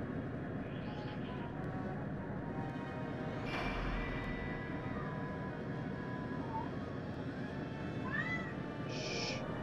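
A cat meows a few times in the video game Skies of Arcadia, short mews heard over a constant low droning engine rumble.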